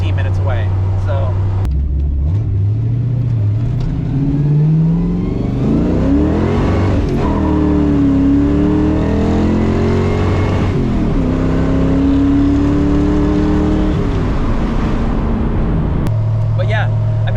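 A carbureted Fox-body car engine hums steadily while driving, then climbs through rising revs and shifts before settling back to a low idle-like drone, loud and close throughout.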